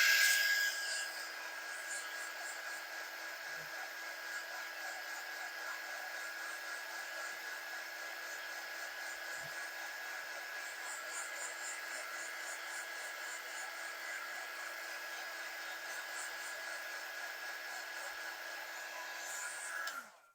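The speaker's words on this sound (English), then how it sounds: "so let me hit this with a dryer." Hair dryer blowing steadily on a freshly painted gingerbread-style Christmas cottage craft, a close, constant high-pitched whirring rush lasting about twenty seconds before cutting off, with no talking.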